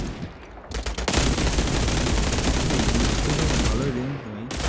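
Video game gunfire rattles in dense, nearly continuous automatic bursts, loud and close, with a voice talking over the shooting.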